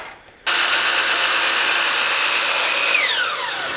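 A miter saw set at 30 degrees cuts a wood board, taking off the factory edge: the motor spins up abruptly into a loud, steady whining cut that holds for several seconds, then pitch falls as the blade winds down.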